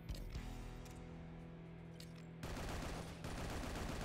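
Rapid gunfire from shooting with a lever in the Anvil Vault Breaker video game, a steady buzzing hum breaking into dense, continuous crackling bursts in the second half, fairly quiet overall.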